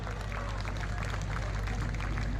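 A large audience at a school annual function claps continuously in a dense, even wash of applause, fairly faint and steady throughout with no clear voice on top.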